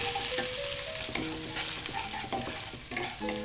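Chopped ginger and kalonji frying in oil on low heat, a constant bright sizzle with repeated close stirring scrapes and light clinks throughout.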